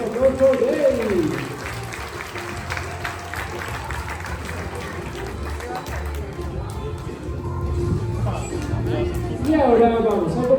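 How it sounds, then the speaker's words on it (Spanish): An audience claps at a sea lion show in Oasis Wildlife, Fuerteventura, in the Canary Islands. A loud announcer talks over a dense, sustained patter of applause from the crowd. "Un fuerte aplauso para ella."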